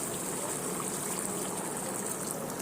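Hot water pouring in a home kitchen, a steady, dense, hissing gush that stays constant from start to finish, close and fairly soft, no voices.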